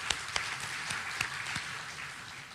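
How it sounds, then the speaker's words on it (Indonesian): Audience applause for the people of Bandung at a public talk, a faint, fairly distant patter of clapping with a few sharper individual claps standing out, fading slightly toward the end. "Jadi tepuk tangan untuk warga Bandung."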